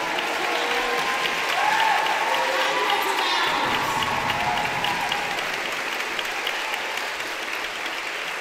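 Sustained, dense applause from a concert audience at a violin celebration event fills the space steadily with a full, even wash of clapping and a few voices rising in it.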